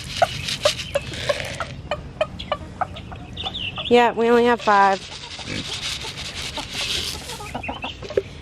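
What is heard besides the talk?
Silkie chickens clucking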